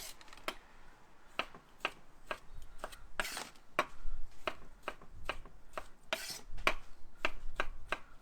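A knife chops through tomatoes on a cutting board, halving them for chicken kebabs on a Big Green Egg, with a steady run of crisp, close thuds spaced about every half second and no talk.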